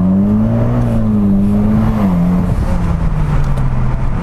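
Mitsubishi Lancer Evolution X MR accelerating hard in first gear, its engine note climbing in pitch and then dropping as it shifts, loud and close with no talk over it.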